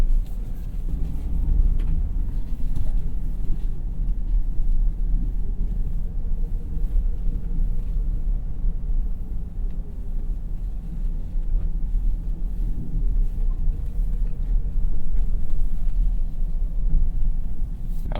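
A 2025 Ford F-150 Tremor pickup with a 5.0 V-8 crawls off-road at low speed, heard from inside as a steady, heavy low rumble with faint wind and creaks throughout.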